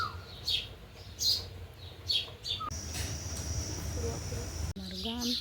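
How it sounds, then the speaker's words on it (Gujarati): An Asian koel calls beside a village house, its repeated bright, rising notes coming in short bursts close by, with other chirps and a faint murmur of talk in the background. "ખાલી કોયલ બોલે છે આમ બાજુમાં."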